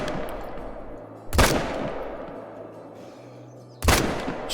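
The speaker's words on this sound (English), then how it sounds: "Why even have a rifle in this game if you can't even use the thing?" A .223 rifle fires two booming shots, a few seconds apart, in the hunting video game Call of the Wild, each with a rumbling outdoor decay over low background ambience.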